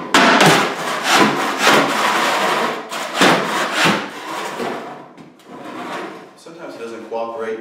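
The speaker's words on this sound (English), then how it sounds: "you're just gonna scrape across the concrete and get rid of that padding" A flooring scraper is pushed across concrete to strip off carpet padding, giving loud, repeated rasping scrapes in bursts, followed by quieter scraping near the end.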